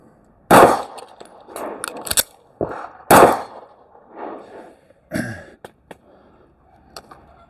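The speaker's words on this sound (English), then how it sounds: "So I shoot one, slide locks to the rear, drop the mag, reload," A Beretta APX Centurion pistol fires sharp single shots at an indoor range, each a loud abrupt crack, followed by metallic clicks and clacks of the slide locking and magazine handling.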